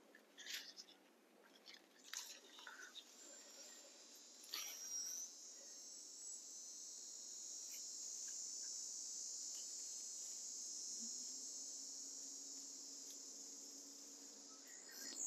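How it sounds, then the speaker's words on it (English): Cicadas in a fall garden, a continuous high-pitched shrill buzz rising and holding through the middle, with scattered crunching handling noises near the start. "you can hear the cicadas in the background"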